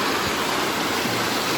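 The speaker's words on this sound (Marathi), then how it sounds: "पाणी पण बघा किती फास्ट जाता" Fast-flowing water below the Brahman Dev waterfall rushes steadily and loudly nearby, a continuous dense churning with no voices over it.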